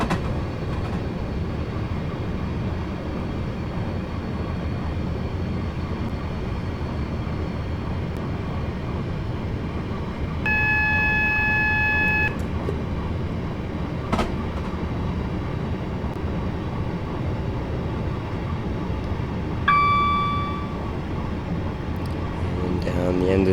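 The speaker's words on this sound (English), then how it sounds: "I do love the sound of those rails though" Train running on rails along the Birmingham Cross City Line in Train Simulator 2021, a steady close rumble with rail noise, brief tonal horn-like blasts and a sharp click midway.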